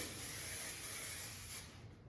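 Hairspray sprays in one steady, soft hiss lasting about two seconds, close by.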